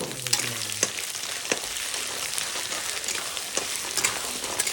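Crabs fry in about 50 grams of oil with ginger garlic paste, giving a steady close crackling sizzle with scattered sharp pops and a few stirring scrapes, with no voices.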